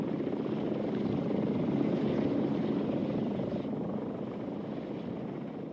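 A Lockheed Cheyenne compound helicopter flies past with a steady, broad rotor and engine roar that stays loud and constant throughout, with no voices.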